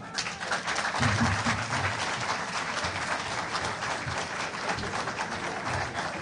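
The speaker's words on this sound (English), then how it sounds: "That applause could be louder than that." An audience at a Nigerian Institute of International Affairs event on Nigeria's 2023 elections applauds in a dense, sustained wash of clapping that holds at an even level throughout.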